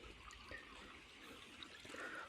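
Water flows down from a mountain beside farmland in rural Guangxi, China, a steady, faint rushing and trickling wash with no talking.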